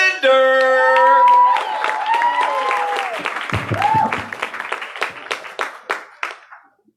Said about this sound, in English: let's put a nice, warm round of applause together for Emily Linder.